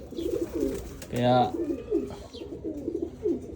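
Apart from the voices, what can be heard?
pigeons cooing during recall training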